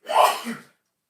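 A single sharp sneeze, close and loud, a quick burst that fades within a second into silence.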